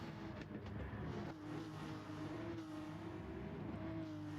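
Racing car engines in a sim racing video game drone steadily throughout, a sustained mid-pitched whine that rises slightly, with a busy mechanical roar beneath and no talking.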